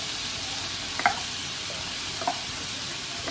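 Buttered mixed vegetables fry in a pan with a steady, even hiss that fills the whole stretch, broken by a couple of faint utensil taps.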